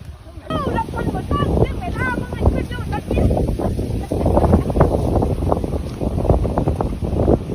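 Strong wind blowing outdoors among houses: a loud, steady broadband roar that continues throughout, with people talking over it.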